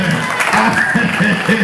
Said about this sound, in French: Applaudis ciel là, applaudis l'éternel.